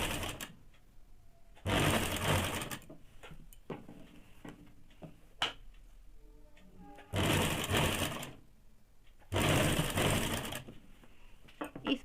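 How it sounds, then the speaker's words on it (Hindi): A sewing machine stitches piping onto a blouse neckline in three loud bursts of rapid whirring, each a second or two long, separated by quieter pauses with faint handling clicks. "अब हाफ इंच पे इस प्रकार से धीरे धीरे सिलाई कर लेंगे"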